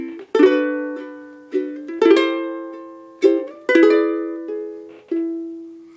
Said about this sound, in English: let me play these last 4 measures of the intro for you